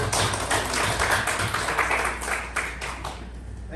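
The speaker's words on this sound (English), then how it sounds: "Please give a big round of applause to Toastmaster." An audience at a Toastmasters club meeting claps for a speaker, a dense stretch of many hands clapping together that thins slightly toward the end.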